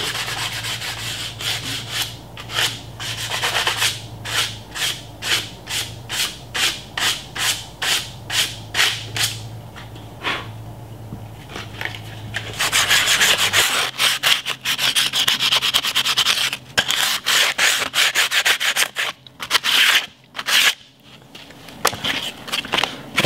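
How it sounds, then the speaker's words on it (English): Sandpaper rubbing a Mossberg ATR 100 .270 rifle stock, first in a quick, even run of back-and-forth strokes, then in faster, rougher continuous scrubbing with brief pauses, close and loud. "Some sandpaper, just gradually sand away it little by little."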